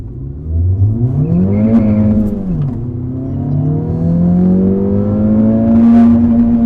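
A car accelerates hard in a 0 to 60 mph run, its engine note climbing loud and close, dropping at a gear shift, then rising steadily again to the end.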